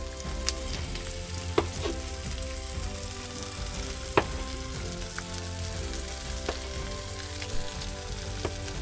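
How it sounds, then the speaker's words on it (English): Asparagus cooking in a pan, giving a steady close sizzle and crackle with occasional sharper pops and light clicks, heard alone without speech. "now we let the asparagus cook up a little bit"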